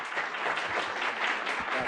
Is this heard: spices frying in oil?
no